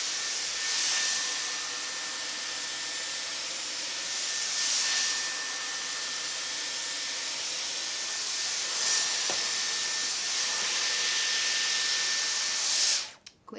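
A Dyson Airwrap blows a steady, loud whooshing airflow while drying wet hair, holding a constant hiss with a faint high whine, gently swelling now and then, and cutting off abruptly near the end.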